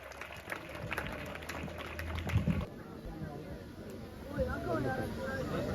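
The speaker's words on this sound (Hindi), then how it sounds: "एक बार फिर जोरदार तालियां इन कलाकारों के लिए।" Audience applause for Haryanvi folk performers at a school event, a broad wash of clapping under a loudspeaker announcer's voice, swelling toward the end.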